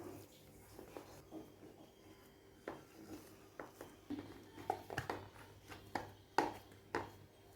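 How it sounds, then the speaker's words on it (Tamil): Rice flour dough for paal kozhukattai is kneaded by hand in a bowl, giving soft, irregular slaps and pats at close range that build in frequency toward the end. "இதுக்கப்புறமா நம்ம கை யூஸ் பண்ணி நல்லா பிசைஞ்சு எடுத்துக்குவோம் மாவை."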